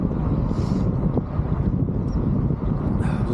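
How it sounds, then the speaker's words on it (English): Strong, fresh morning wind sweeps past a wind farm, a loud continuous rumble buffeting the microphone with no pause throughout. "they're not short of bloody wind, I tell you. It's very fresh this morning, very windy."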